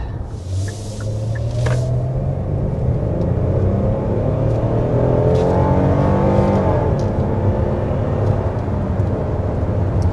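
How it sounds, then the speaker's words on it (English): A 2024 Hyundai Palisade Calligraphy V6 SUV accelerates, its engine swelling into a steady loud rumble with a rising tone and smooth upward pitch changes, heard close from inside the cabin without speech. "Very smooth acceleration."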